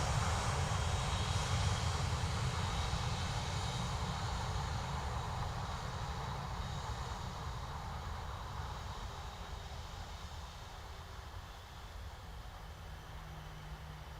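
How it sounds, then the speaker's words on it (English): A Lufthansa Airbus A319 from Munich at Dublin Airport gives a broad, steady jet roar that fades slowly, with no voices over it. "Lufthansa from Munich. Another A319."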